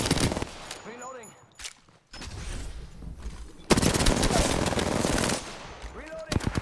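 The R99 submachine gun in a video game fires in rapid, close, loud full-auto bursts, broken by short pauses, with a player talking between and over the shots.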